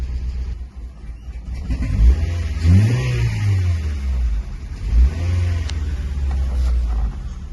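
The engine of a 2005 Honda Jazz CVT with an engine fault sputters and revs unevenly, rising and falling in strained surges with a rough, labored rumble close by.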